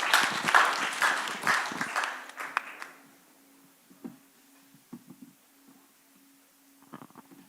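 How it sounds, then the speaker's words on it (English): An audience at a Hospiton 2025 final pitch session claps in a lively burst for about three seconds, then the applause dies away into a quiet room with a low steady hum and a few soft knocks. "Please give a round of applause like tradition."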